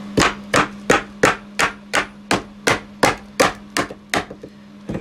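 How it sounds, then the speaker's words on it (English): About a dozen evenly spaced hard strikes on a chisel and Wonder Bar as RV subfloor is pried up. Each blow is loud and close, over a steady low hum. "using a Wonder Bar and then a chisel that's sacrificial, an old one that's dull, and get up under there"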